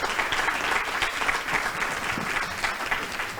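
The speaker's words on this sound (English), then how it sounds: "I hope you give them a round of applause." Audience applauding at a membership meeting, a steady sustained clapping from a room full of people lasting the whole stretch without pause.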